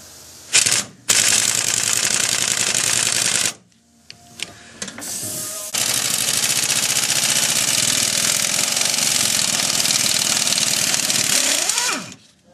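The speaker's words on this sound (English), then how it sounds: "air tools come in handy to take off that bolt" An air impact tool works a bolt loose from the steering coupler of a 1998 Dodge Dakota 4x4, loud sustained bursts of whirring hammering, a short burst first, then a longer run, a pause, and another long run that winds down.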